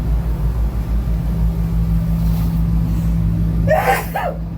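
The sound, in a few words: sneeze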